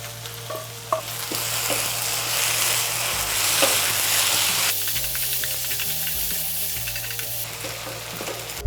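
Vegetables and seasoning sauce for Korean stir-fried pork noodles sizzle loudly and steadily in a hot pan, with a constant frying hiss, occasional stirring scrapes and no one talking.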